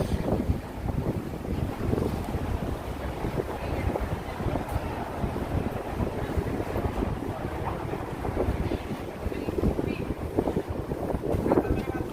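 Gusting wind buffets the microphone on a sunny city street in Manhattan, a continuous low rumbling roar that swells and dips with no talking.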